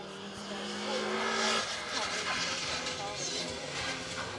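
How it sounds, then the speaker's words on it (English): Historic Mini rally car with a straight-cut gearbox and RC40 exhaust on a rally stage at Hills Ford Stages, its engine note rising and winding down as it passes, fairly loud and steady with a commentator talking over it. "glorious little historic Mini. We've got a few of those to go. Straight cut gearbox, RC40 exhaust winding down the stage."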